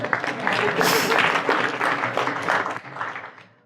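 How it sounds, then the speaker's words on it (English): A live audience applauds at a founder's talk with a steady wash of clapping. The applause swells, holds, then tapers off toward the end, with some voices mixed in. "And let's clap."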